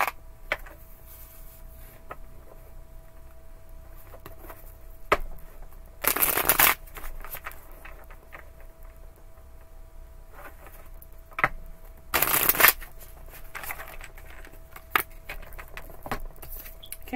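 Tarot cards are shuffled in two short, crisp bursts of riffling, with faint handling noises and quiet table taps in between.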